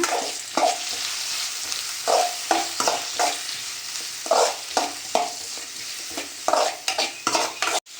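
Onions fry in a pan while a utensil stirs them in repeated scraping strokes roughly every half second over a steady sizzle, close and clear, with no voices.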